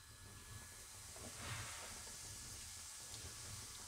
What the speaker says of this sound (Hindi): ऑयल गर्म हो गया, इसमें थोड़ा जीरा डालेंगे।